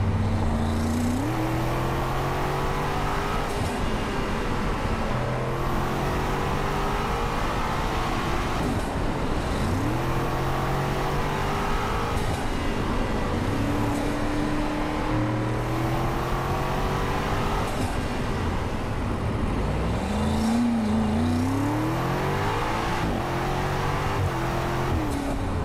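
BMW F90 M5 tuned to 730 hp launching hard under launch control, its engine roaring through repeated climbing gear pulls with shifts between them, loud and continuous from inside the cabin for the whole stretch.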